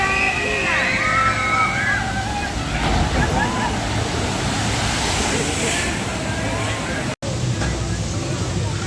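On a log flume ride at Gardaland, water rushes and splashes steadily around the boat, a continuous near wash of sloshing and falling water, with people talking over it.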